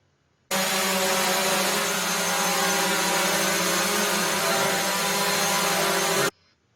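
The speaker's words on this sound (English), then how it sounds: "So you can tell it got pretty noisy when both drones were flying around." Two drones fly inside a cave passage, producing a loud, continuous whirring roar that starts abruptly, holds steady for about six seconds, then stops.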